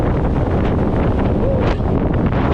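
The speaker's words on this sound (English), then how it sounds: "the wind's gonna pick up, and I mean, it's crazy" Strong wind buffets a microphone outdoors beside a parked bike, a loud, continuous rumbling roar that stays steady throughout with no pauses.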